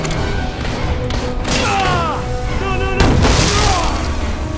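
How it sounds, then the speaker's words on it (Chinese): A fireworks gun fires in the zombie action game Dead Rising 4, producing booming thumps and whistling, swooping rocket squeals that repeat within a few seconds over a dense game soundscape. "嗱，想讲烟花枪嚟啫。"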